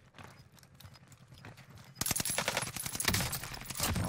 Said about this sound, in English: Gunshots, which is over here to the right.